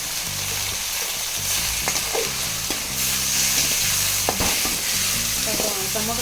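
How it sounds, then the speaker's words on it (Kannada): Tomatoes roasting with green chillies in an oiled pan, a constant close sizzle broken by repeated scraping stirs of a spoon against the pan. "ಸ್ವಲ್ಪ ರೋಸ್ಟ್ ಮಾಡ್ಕೊತಾ ಇದ್ದೀನಿ ಟೊಮೊಟೊ ಹಾಕೊತಾ ಇದ್ದೀನಿ"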